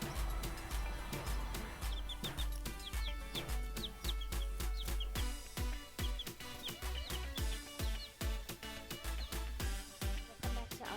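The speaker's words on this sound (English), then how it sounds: "today now I'm just videotaping some chicks and chickens" Chicks and chickens clucking and chirping in a yard in Trinidad, with a busy run of short calls and peeps mixed over a steady background and several sharp knocks, all fairly close.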